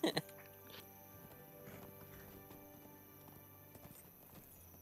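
Rhythmic hooves of a ridden horse clip-clop at a walking pace under game music and ambient tones in the game The Lord of the Rings Online, with a couple of sharp thuds at the start.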